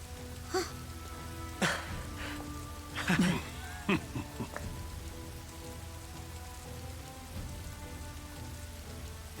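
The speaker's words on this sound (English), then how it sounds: "This never-ending rain, too." Steady rain falls across a battlefield in Dynasty Warriors 8 Xtreme Legends, a constant wash of downpour with a few brief louder bursts over it and no talk.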